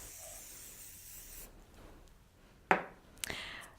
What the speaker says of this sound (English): you can also add the glaze spray and it will give a natural shine as if it's real leather